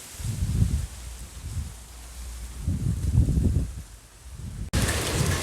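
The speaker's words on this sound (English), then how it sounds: "Alright guys, it's beginning to rain" Rain begins to fall outdoors during Hurricane Beryl on a windy morning: low, gusting wind rumbles through most of the stretch, then a steady broadband hiss of rain takes over near the end.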